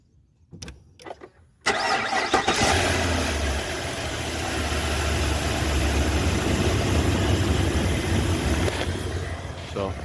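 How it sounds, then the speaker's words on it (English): A 2021 GMC Sierra engine cranks briefly with a few clicks, then catches and settles into a steady, fairly loud idle that hums on evenly. "I'm gonna do a quick startup"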